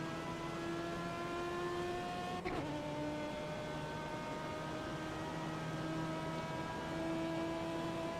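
Racing car engine from the iRacing sim, Legends Road Racing Cup at Charlotte, holds a steady droning tone with strong harmonics; around two and a half seconds the pitch drops abruptly as if shifting gear, then settles and continues evenly.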